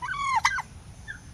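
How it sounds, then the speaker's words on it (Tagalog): A mother turkey gobbles once in a quick, warbling burst close by, then a faint softer call trails off in a quiet background. "Ayun yung nanay ng mga pabo."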